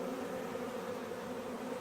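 A swarm of honeybees buzzes in a steady, continuous drone, many insects blending into one dense hum that stays close and even throughout with no voices.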